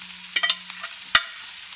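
Capsicum and onions fry in a pan for ratatouille, with a faint low hum beneath a few sharp clatters and scrapes of stirring and a short burst of sizzle, fairly close and without talk.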